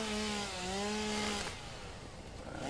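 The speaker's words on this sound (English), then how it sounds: "Chainsaw!" Chainsaw in the video game Satisfactory, a harmonic droning whine cutting for about a second and a half before dropping to a rougher, quieter rumble, up close and loud.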